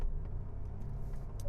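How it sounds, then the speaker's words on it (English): Steady low rumble of an Acura TL with a manual six-speed gearbox driving on twisty roads, a continuous engine and road drone heard from inside the cabin with no talking. "the engine just doesn't seem like it's at home in this type of an environment"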